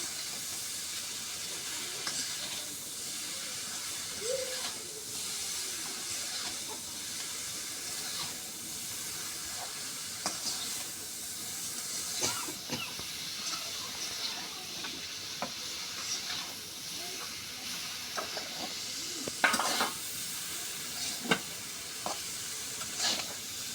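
Flat beans sauté in a pan, giving a quiet continuous hiss and sizzle with occasional soft stirring scrapes and clicks, fairly faint throughout and without talk.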